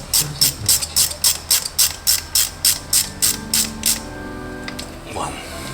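A ratchet tightens bolts on the cover of a Skoda Fabia engine, about a dozen evenly spaced, crisp clicking strokes close by, then it stops and the workshop goes quiet.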